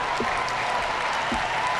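Crowd applause fills an arena after a men's apparatus final at the 1998 Commonwealth Games, a steady dense clapping wash that holds evenly throughout.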